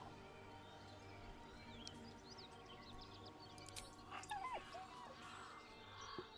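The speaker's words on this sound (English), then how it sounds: "With a deep, heartbroken whine, the dog bows his head." A dog whines faintly in Baldur's Gate 3, with a few thin rising whimpers over a steady game ambience and soft music.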